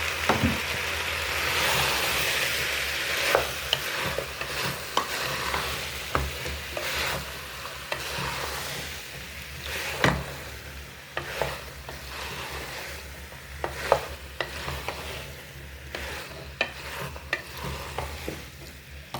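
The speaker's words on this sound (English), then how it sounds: "Time to go in with the potatoes, in with the Githeri." Potatoes and githeri fry in a pot, a steady sizzle broken by repeated scraping knocks as a spoon stirs them, close and fairly loud with no talking.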